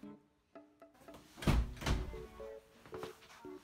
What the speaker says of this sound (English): I'll open the door.